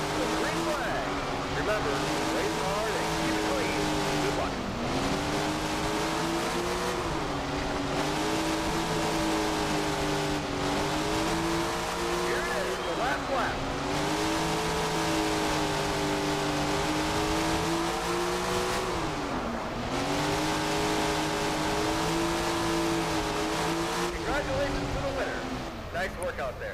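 Sprint car engines roar in the Tony Stewart's Sprint Car Racing video game, a loud continuous pack drone whose pitch swoops up and down through the corners, with a voice occasionally over the engines.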